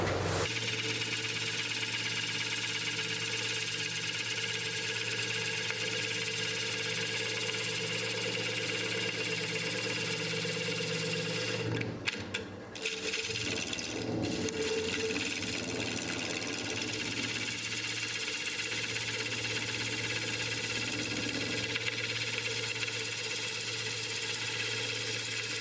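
A woodturning lathe runs steadily while a tool cuts a large wooden salad bowl, giving a continuous mechanical hum with a steady rhythm and a brief disturbance partway through.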